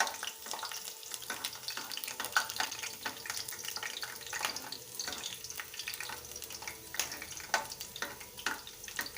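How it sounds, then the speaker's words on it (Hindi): Chopped garlic fries in hot oil for an aloo methi sabzi, giving a continuous, dense sizzle with scattered crackles and occasional stirring clinks, close and steady throughout. "ये लहसुन ले लेंगे कटे हुए, तेल में डाल देंगे। बस इनको हल्का सा गोल्डन हम फ्राई कर लेंगे"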